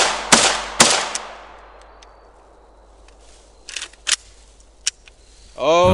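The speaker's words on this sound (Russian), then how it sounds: "Последние выстрелы из АК, наполненного арахисовым маслом." An AK rifle loaded with peanut butter fires a few sharp, loud single shots outdoors, with the first two close together and later fainter clicks and thumps, before a voice starts at the end.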